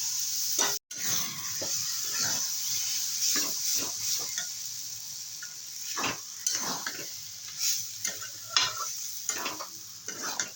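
Rice-flour batter water going into a sizzling pan with shrimp, giving a steady bright hiss throughout, broken by scattered stirring scrapes and clunks of a utensil against the pan.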